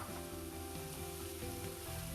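Potato curry sizzles in a pan, a steady, close frying hiss under faint background music, with no talk.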